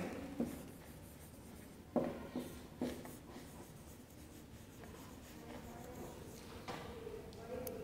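A pen writing on paper, soft scratchy strokes with a few sharper taps, faint and close, under a voice speaking.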